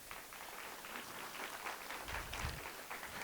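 An audience applauds to welcome a panelist, Ms. Whitney H. Brown, at an evening panel event; steady, dense clapping at moderate distance throughout.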